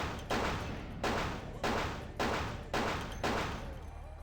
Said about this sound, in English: I am shooting this place up now